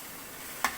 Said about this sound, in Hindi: तड़का बना रहे हैं।